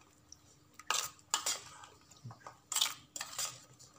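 Wasp larva fishing bait mixture is stirred in a container, bringing a few close, bright scraping clinks and clatters in short bursts, spaced apart, with quiet pauses between them.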